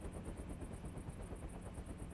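A helicopter in the video game ARMA 2 whirs steadily with rapid rhythmic rotor chop and a low engine drone, faint and continuous with no talking.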